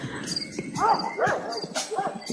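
A dog in the Pathologic video game barks in a few sharp, yelping bursts spaced out over a couple of seconds, fairly close and loud, with some speech-like sound blended in.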